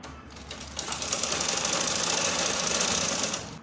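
A sewing machine stitches a gathered circle skirt in a steady, fast mechanical chatter that starts after a brief pause and runs evenly at close range, then eases off at the end, with no voices.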